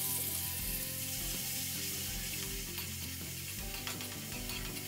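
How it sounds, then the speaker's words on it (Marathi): Onion paste sizzles in hot oil and ghee in a kadhai while being cooked for a vegetable biryani, a steady close frying hiss running throughout over a low tonal hum. "आता कांदा जो आहे तो आपल्याला गुलाबी रंग येईपर्यंत परतून घ्यायचा आहे"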